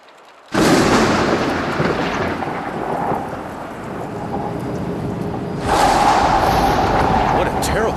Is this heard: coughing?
no